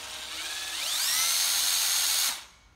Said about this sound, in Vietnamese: Đây là một con khoan Makita 9V6.